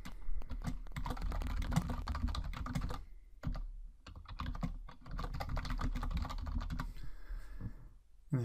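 Rapid typing on a computer keyboard, close and crisp, in quick bursts of keystrokes broken by two short pauses, no talk.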